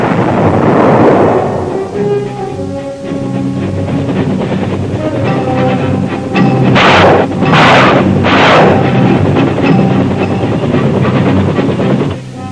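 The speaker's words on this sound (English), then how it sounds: "Air Force strikes, artillery fire, and Army gunships prepared the way." Heavy artillery fire and air strikes pounding jungle positions, a loud continuous rumble of blasts with a few sharper, brighter bursts rolling in midway, no voices.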